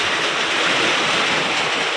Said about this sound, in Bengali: এ বাবা দেখো দেখো দেখো এ কোন ধরনের বৃষ্টি দেখো